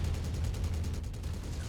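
Bursts of short-range missile fire from a mech in the video game Mechwarrior 5, a dense rumbling barrage of rapid booming impacts that stays loud and continuous throughout, with no voices over it.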